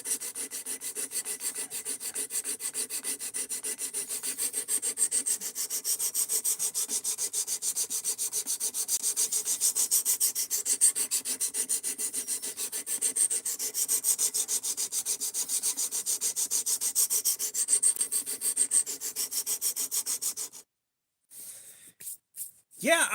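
MagnaCut steel blade rubbed on a sharpening stone in rapid, steady back-and-forth strokes, a close, continuous gritty scraping for about twenty seconds before stopping, followed by a few faint handling noises.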